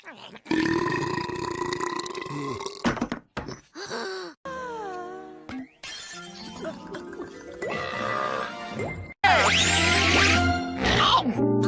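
A string of long, loud, exaggerated burps in a comic burping contest, each one groaning and warbling in pitch, separated by short gaps.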